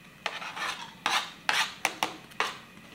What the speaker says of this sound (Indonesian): Ini aku pakai margarin buat ngongseng bawang putih sama orak-arik telur.